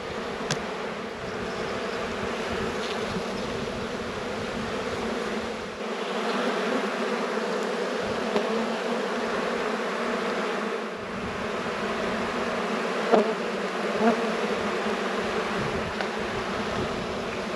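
Honey bees drone steadily around an open hive during a late-season inspection before winter, a dense continuous buzz with a few louder individual bees passing close.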